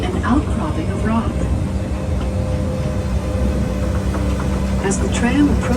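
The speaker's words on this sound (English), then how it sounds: "As the tram approaches this outcropping" Tour tram engine running on Angel Island State Park, a steady low rumble beneath continuous narration.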